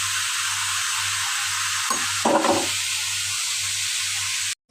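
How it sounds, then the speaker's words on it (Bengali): Sweet gourd fries in a pan with a steady, close sizzling hiss over a low electrical hum. A short stirring clatter comes midway, and the sound cuts off suddenly at the end. "তো মিষ্টি লাউ ভাজি করলাম"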